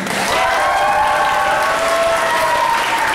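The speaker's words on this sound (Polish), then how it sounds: "oklaski dla niego." Dense, loud applause and crowd noise at a Valentine's concert, a continuous wash of clapping with faint cheering and a few whistle-like tones riding over it.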